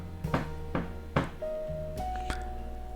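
Three sharp knocks ring out one after another in a quiet room, loud and close, answering an earlier signal, with a faint tonal hum lingering behind them.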